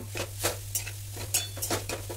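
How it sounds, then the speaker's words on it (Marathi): A utensil scrapes and clinks against a pan as grated jaggery is stirred until it melts, with irregular knocks about every quarter second over a faint low hum, close up and with no talking. "मग गूळ वितळेपर्यंत त्याला हलवत राहा."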